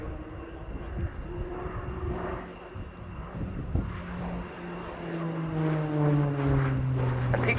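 A fast jet trainer at the RIAT airshow pulls a high-G turn, its engine roar drifting at a distance with a steady rising and falling drone and a shifting pitch as it passes.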